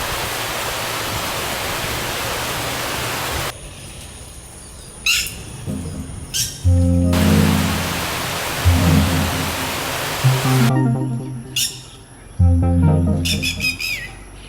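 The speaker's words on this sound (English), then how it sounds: "The red-wattled lapwing believes in hiding in plain sight" Sharp, repeated high-pitched calls of a red-wattled lapwing ring out in bursts over a steady rush of water, with low tonal hoots in between.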